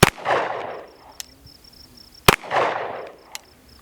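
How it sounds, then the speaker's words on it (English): Two loud, sharp gunshots from a handgun fitted with a Vortex Venom optic, fired about two seconds apart on an outdoor range, each followed by a ringing echo and faint metallic pings of steel targets. "I'm gonna shoot this one-handed just in case for the first one."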